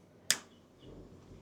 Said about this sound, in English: All you have to do is snap your fingers.